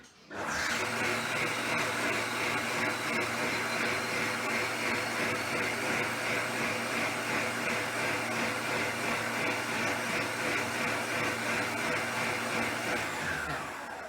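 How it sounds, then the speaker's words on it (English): Magimix Cook Expert food processor running its automatic rinse cycle with water heated to 40 degrees, a steady loud whirring motor and sloshing wash that starts abruptly and holds evenly for about thirteen seconds before cutting off. "it comes up saying that it's going to rinse, automatic speed, and it's going to heat at 40 degrees"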